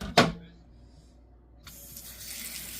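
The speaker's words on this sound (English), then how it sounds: "I think I might add some water to this too" A short knock sounds, then after a quiet pause a kitchen tap starts running, with water gushing steadily into a cooking pot that holds parsley, fairly close.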